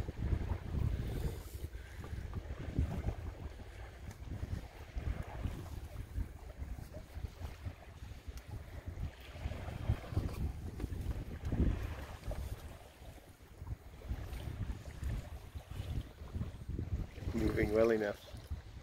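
Compac 19 sailboat running downwind under mainsail alone toward a marina, with steady wind buffeting and water wash along the hull, a low continuous rush with light splashing, and voices talking over it.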